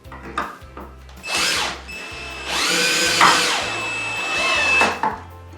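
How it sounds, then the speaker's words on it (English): A power driver runs screws into the wooden frame of an Aria high loft bed kit, loud close whirring bursts rising and falling in pitch between short pauses, with a low rhythmic motor pulse underneath. "I've also discovered that the power driver will do just fine so long as Wade is gentle with it."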